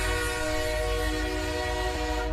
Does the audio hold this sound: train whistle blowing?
yes